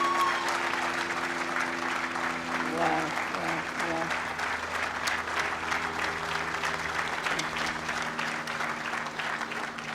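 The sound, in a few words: audience applause at a commencement ceremony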